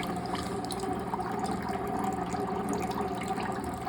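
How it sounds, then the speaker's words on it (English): Water pours steadily from a hose into a bucket while a Navien tankless water heater is being flushed, making a continuous moderate rushing and splashing sound with no talking. "pull the red side's hose into the bucket so the water will flow inside the bucket once it's turned on"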